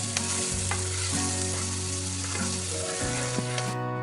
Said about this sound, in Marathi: मी दोन कांदे घेतले ते छान असे तेलात परतून घेत आहे त्यामध्ये मी टाकलेले दोन टोमॅटो